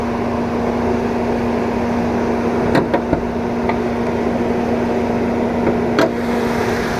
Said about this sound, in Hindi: मैं आपको इंजन की नॉइस एक बार सुनवा देता हूँ।